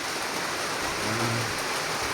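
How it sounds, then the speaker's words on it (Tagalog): Heavy rain pours steadily outdoors at a newly built house in the Philippines, a dense, continuous hiss of drops on surfaces at fairly loud level, with a faint low rumble briefly rising midway and no talking. "napakalakas yung ulan"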